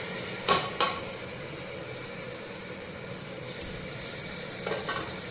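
Spice masala for rajma is stir-fried in oil with a soft sizzle running throughout, broken by a few sharp metallic scrapes and clanks of a spatula against the pan.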